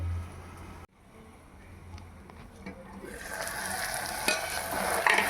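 Vegetables for a potato vegetable biryani fry in a pan as they are stirred. A quiet, muffled start swells into a louder, close crackling sizzle with scraping stir strokes.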